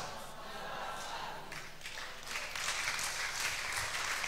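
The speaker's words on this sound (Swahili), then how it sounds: "Wachache wanaelewa ndo wanampigia Yesu makofi." A congregation at a gospel seminar claps for Jesus. The applause starts thin and scattered, then swells fuller and louder about halfway through and carries on steadily.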